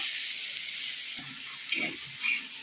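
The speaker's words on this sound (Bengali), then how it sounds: "এভাবে আমি আদাগুলোকে ভেজে নিচ্ছি" Ginger frying with salt in a pan over low to medium heat, giving a continuous bright sizzle with a few faint stirring scrapes, close and alone.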